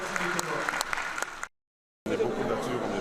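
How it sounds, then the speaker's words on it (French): Audience applause for a delegation at a UNESCO celebration of African culture, a crisp crowd of clapping hands with voices mixed in, cut by a brief dead silence before the clapping resumes. "Est-ce que l'on peut applaudir pour la délégation des Comores?"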